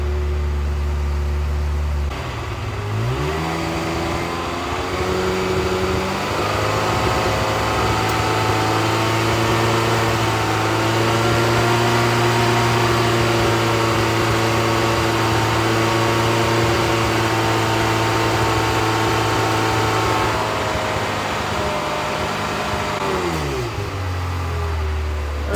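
Ferrari F355 engine running in a workshop inspection, idling, then its RPM raised and held as a steady, loud, close drone before dropping back to idle.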